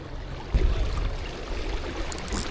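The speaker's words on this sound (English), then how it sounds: "I don't know what I like more, the fishing or the sound of the river right now" River water flowing steadily at a steelhead fly-fishing spot, a continuous broadband rush with low rumble, a slight surge about halfway through and no talk.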